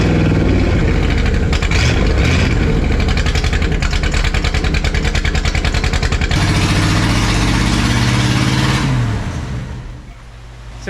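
A barn-find Chevrolet Camaro IROC-Z, left sitting since the 1990s, runs loud and close with a rough, pulsing engine note. The tone shifts partway through, then fades toward the end.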